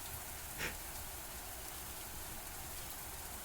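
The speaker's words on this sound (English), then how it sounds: "It was raining outside." Rain in the video game MAMIYA, a soft, even, faint hiss of falling rain with one brief brighter tick near the start, no voices.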